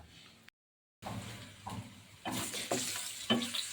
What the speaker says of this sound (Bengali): সরষের তেলের মধ্যে পেঁয়াজটা লাল হয়ে আসছে